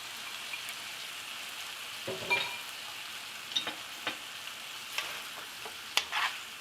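Vegetable lo mein noodles being stirred and tossed with sauce in a hot pan: a soft constant sizzle broken by scattered scrapes and taps of the utensil, near and moderately quiet, no talking.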